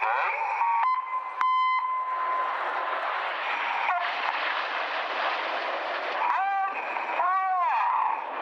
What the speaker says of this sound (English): It's in fact Red 6 pressing a tone button on his radio to action the turn